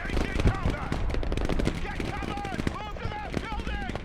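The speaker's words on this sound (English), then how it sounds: "Let's buy this and do some shooting" Gunfire in the video game Broken Arrow, rapid bursts and shots crackling continuously under a layer of game radio chatter and other game sounds, fairly loud and busy throughout.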